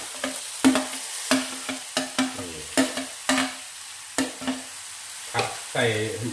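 Fish frying in a pan, stirred with repeated sharp scraping strokes over a soft sizzle, about a dozen distinct hits spaced irregularly, with a brief voice near the end.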